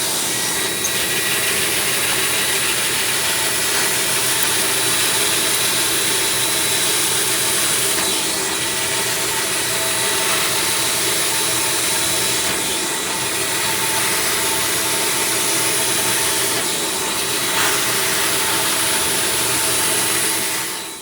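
A carpet extractor deep-cleaning a 20-year-old car floor mat, its vacuum motor whining and hissing in one loud, unbroken roar for the full length, close by.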